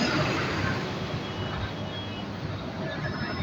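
Buses arriving at and pulling away from a stop, a dense continuous engine and road rumble with faint beeping, close and steady.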